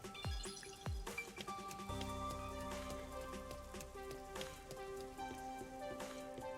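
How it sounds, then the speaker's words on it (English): Steady rainfall in the Rain Code video game, a dense continuous patter of drops with occasional sharper splashes and a low background hum, moderately loud and unbroken throughout with no talking. "It rains non-stop here, all the time"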